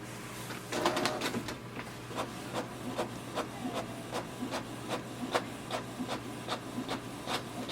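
A Canon TS6320 wireless inkjet printer runs a print job, its carriage ticking out a steady train of sharp, evenly spaced clicks and mechanical rasps over a low motor hum, fairly faint and close, with no talking.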